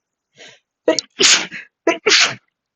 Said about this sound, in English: Mute myself before I sneeze.